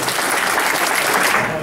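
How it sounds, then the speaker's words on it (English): A brief burst of audience applause for a debate panel, dense, even hand-clapping heard close and steady for under two seconds with no voices over it. "I want to give a round of applause to the people on the panel"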